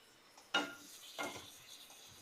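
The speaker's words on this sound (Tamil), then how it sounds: "இப்போ இந்த 2 தக்காளியை சேர்த்துக்கலாம்." Two tomatoes dropped into a pan of softened, frying onions: a sharp clatter and sizzle burst, then a second softer plop and crackle, close and fairly quiet over a low steady sizzle.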